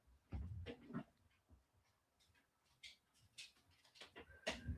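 A pet dog named Arnie whimpers and whines in soft, uneven bursts close to the microphone, with scattered rustling and movement noises in a quiet room.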